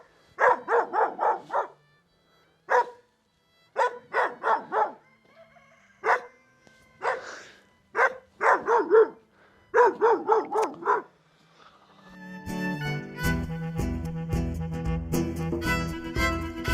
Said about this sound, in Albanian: po lehin qenë